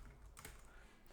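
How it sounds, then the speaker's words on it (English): Keystrokes on a computer keyboard, a faint, quiet patter with one brief burst of clicks near the middle, alone without voices. "then you type the body of your question"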